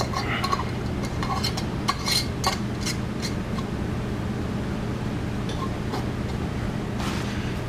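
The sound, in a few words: screw-on lids being tightened on hot glass jars of ghee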